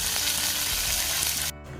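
Cumin, mustard seeds, garlic and dried red chillies sizzle loudly in hot oil for a tempering for dal, a dense steady crackle that drops away abruptly near the end.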